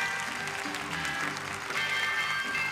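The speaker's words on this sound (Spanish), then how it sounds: "¡Aplausos para ellos!" An audience at a circus show claps in a dense, steady burst of applause that carries on through the whole moment, with little talking over it.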